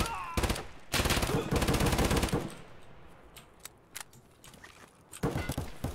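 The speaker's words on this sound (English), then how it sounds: "I just shot him twice in the face" Gunfire in the game Escape from Tarkov: two loud bursts of rapid shots early on, a few sharp single cracks in the middle, then another burst at the end, close and dominant.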